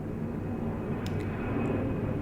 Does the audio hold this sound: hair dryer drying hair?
no